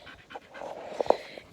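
A dog pants nearby in a quiet pasture setting, a quick series of short breathy huffs with a couple of louder gasps toward the end.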